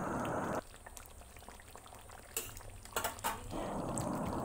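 A pot of chicken kosha curry boils with the lid off, a soft bubbling simmer that briefly drops away and returns, with a few clinks and handling sounds, close and fairly quiet.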